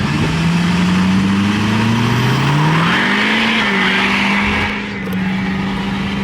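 A Ford F350 dually pickup truck launching from a brake boost, its engine droning loud and close as it accelerates steadily with rising pitch, then easing off briefly near the end.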